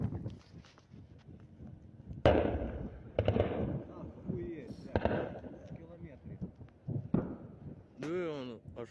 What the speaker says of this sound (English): the tanks continue to advance, popping off smoke grenades and firing as they advance